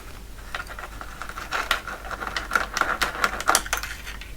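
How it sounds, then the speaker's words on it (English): An old ASR33 teletype keyboard is worked loose, sliding back and lifting out, making a run of dry mechanical clicks, rattles and taps, close and fairly crisp with no voices. "The keyboard should now slide back slightly and lift out."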